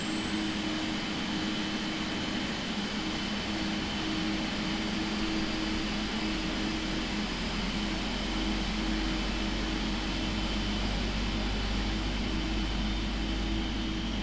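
The jet engines of a PMDG 777-300ER spool up in the Prepar3D flight simulator. A steady, loud turbine roar with a rising high whine and deep rumble holds for over ten seconds, no talk.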